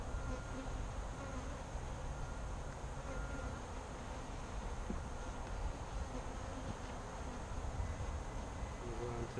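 Saskatraz honey bees buzz inside their hive two weeks after a package install, a dense, even hum that holds steady throughout.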